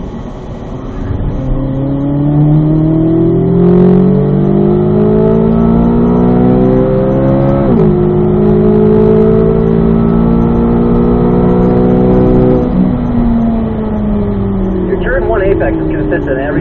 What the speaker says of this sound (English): Third gear here. Remember, start wide, start scanning right. And wind out third gear with me here.